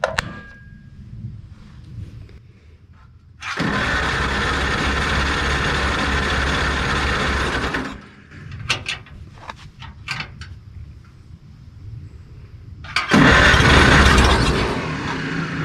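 A 1949 Farmall Cub tractor engine cranks and catches, a loud steady mechanical run of several seconds, then a pause with scattered clicks and knocks before it roars loudly again near the end.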